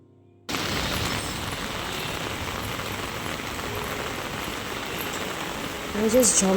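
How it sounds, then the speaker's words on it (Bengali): Heavy rain falls in a dense, steady roar from start to finish after a brief quiet opening, with a louder gust or splash near the end. "ঝমঝমিয়ে বৃষ্টি পড়ছে"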